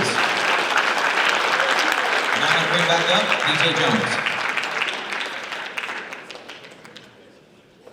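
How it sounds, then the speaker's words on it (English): A crowd at a high school basketball awards event applauds the schools' MVPs, steady dense clapping that gradually fades out, with someone speaking over it on a microphone. "let's clap it up for all the MVPs for their respective schools"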